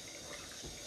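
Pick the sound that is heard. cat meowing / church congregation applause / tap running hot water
tap running hot water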